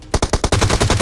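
Rapid automatic gunfire in PUBG Mobile, a close, loud burst of about nine evenly spaced shots in quick succession.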